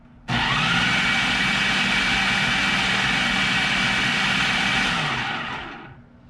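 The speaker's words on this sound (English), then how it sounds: "You blend them up till they're really runny and chopped up." A kitchen blender purees tomatoes for homemade spaghetti sauce, starting abruptly with a loud steady motor whine, running evenly for several seconds, then spinning down as it switches off.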